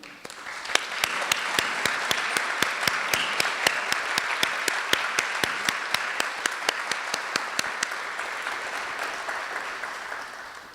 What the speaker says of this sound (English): I would like those honorees to please stand up and let us applaud them.